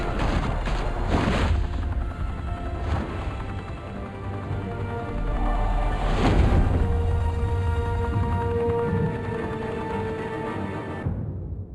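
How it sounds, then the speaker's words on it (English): Video game gunfire from Batman: The Telltale Series during a shootout at the Skyline Club, a high-rise mafia hangout in Gotham: repeated booming shots and bursts over a dense, steady rumble of action, loud and continuous with no talking. "Open fire!"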